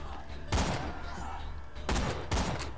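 Gunfire in the video game Borderlands 2 comes as loud, close bursts of rapid shots, three separate volleys over a steady background of game noise.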